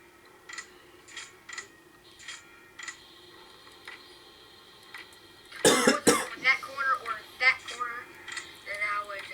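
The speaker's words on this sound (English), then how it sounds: "Do you need a cough drop" Several short coughs and throat-clearing bursts sound close and dry, followed by a louder cluster of coughing and clattery noise near the end.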